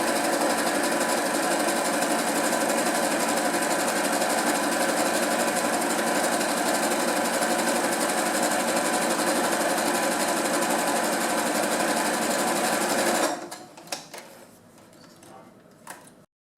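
A sewing machine stitches a zigzag seam on fabric for a face mask, running loud, fast and steady for about thirteen seconds before stopping abruptly, followed by faint handling noises.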